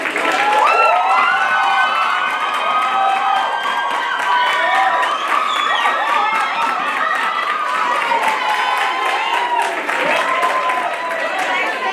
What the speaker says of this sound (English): Round of applause for Ms. Sita, guys.